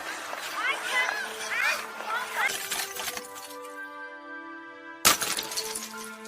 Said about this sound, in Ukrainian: Бурулька, що впала.